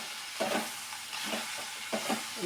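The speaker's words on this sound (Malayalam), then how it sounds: "ഇളക്കാം" Avial vegetables with a little dried fish and added salt are stirred in a pan, a soft hiss broken by a few scraping strokes at a slow, uneven rhythm, close and fairly quiet with no talk.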